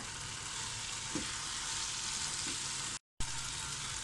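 Eggplant stir-frying with curry leaves in a pan, a steady close sizzle with a couple of soft stirring knocks and a brief dropout near the end.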